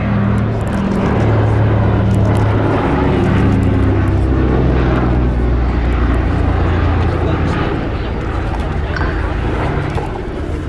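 Consolidated PBY Catalina flying boat passing at an air show, a loud steady drone of piston engines and propellers sustained throughout, with an announcer talking over it.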